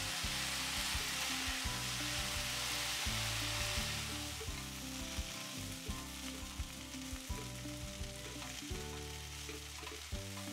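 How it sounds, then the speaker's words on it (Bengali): Potatoes and green beans frying with spices over a low flame, a loud, continuous close sizzle with light stirring scrapes scattered through it. "আবারও একসাথে ভালো করে মিশিয়ে ভাজা ভাজা করে নেব"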